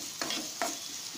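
Spices and curry leaves tempering in a pan for Guntur gongura pachadi, giving a steady close sizzle with two sharp stirring scrapes.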